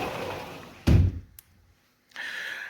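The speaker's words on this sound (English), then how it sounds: "let me close the window. The sliding door, sorry." A sliding door at home is pushed shut with one loud thud, then a short click, and the room falls quiet.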